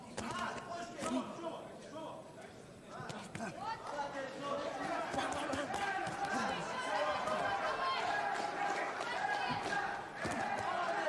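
A crowd at a professional boxing match rising in volume, a dense roar of cheering and shouting that swells and holds loud, with a commentator talking over it.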